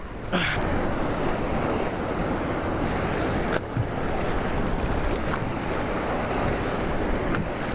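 Ocean swell and surf wash loudly and continuously around a fishing boat out beyond a reef, with heavy wind buffeting the microphone and a few brief knocks through the steady roar.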